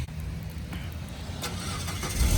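A car bought at auction has its engine cranked and started, a short rough churn building toward a running rumble, close up with no talking.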